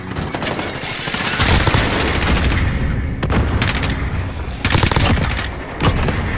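Rapid automatic fire from a sentry gun in Modern Warfare, loud, dense bursts that run through most of the stretch with brief lulls and sharp peaks, near and continuous.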